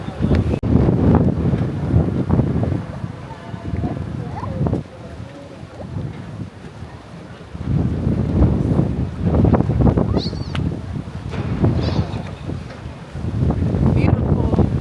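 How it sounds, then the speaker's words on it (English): Strong, gusty wind buffets the microphone at a beach, a loud, rough roar that swells and eases in waves, with voices talking underneath. "It looks pretty out here, but it's just super windy."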